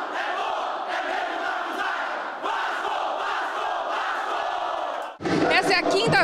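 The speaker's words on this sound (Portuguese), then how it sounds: "entre cantos e gritos de guerra, a torcida vascaína não perdia a alegria de esperar pelo time do coração" Vasco da Gama supporters in Manaus roar with chanting and war cries as they await their team, a loud massed crowd sound that swells and holds, then breaks into sharper, closer shouting near the end.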